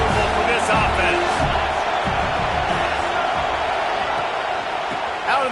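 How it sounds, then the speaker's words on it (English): A roaring college football stadium crowd, a steady, dense wall of noise pressing on the offense, with a broadcast commentator's voice running over the top throughout. "This crowd trying to make life miserable for this offense"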